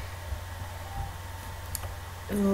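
Faint, sparse computer mouse clicks, a few brief isolated ticks over a quiet low hum, followed by a louder tone at the end.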